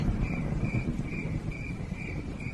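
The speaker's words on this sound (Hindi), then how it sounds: "और रही बात इस बारिश और तूफान की, तो इस मौसम में ये सब तो सामान्य है" Steady rain and storm rumble fill the scene in wet-season weather, a dense low wash of rainfall with a faint rhythmic insect chirp pulsing above it, no voices present.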